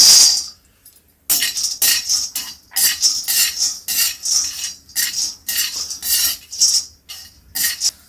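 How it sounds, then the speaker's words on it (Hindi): Peanuts dry-roast in a hot kadhai with no oil, stirred with a metal spoon that gives repeated scraping, rattling strokes in a steady rhythm, close and fairly loud, with no talking. "बिना तेल के ही मूंगफली के दाने को भूनेंगे"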